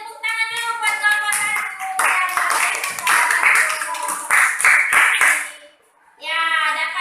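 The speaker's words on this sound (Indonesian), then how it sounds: "Tepuk tangan dulu buat kelompok" Students in a classroom clap for a group. A burst of lively hand claps fills the middle stretch, with children's voices talking before and after.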